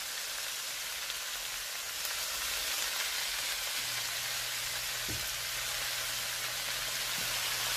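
Red snapper in coconut sauce simmering in a pot, a soft steady sizzle and hiss with a few faint bubbling pops and light taps, quiet and close with no talking.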